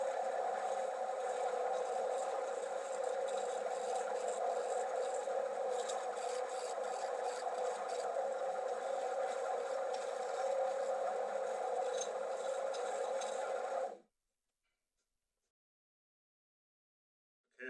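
A wood lathe turns a twisted three-sided box while a roughing gouge cuts it, producing a continuous whirring scrape at steady level that stops abruptly, leaving silence.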